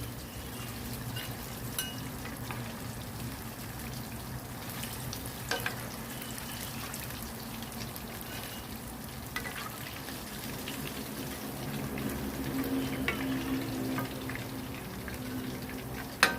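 Sea bass frying in hot oil, a quiet, steady crackling sizzle close by that runs the whole time with a few small clicks and knocks.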